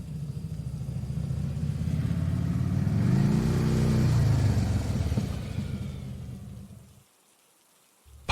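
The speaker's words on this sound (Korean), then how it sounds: "밖에서 거친 오토바이 배기음 소리가 들렸다." Rough motorcycle exhaust revving outside as a sound effect in a horror radio drama: a hissing, rumbling engine swell that builds to a peak midway, then fades away and leaves near silence.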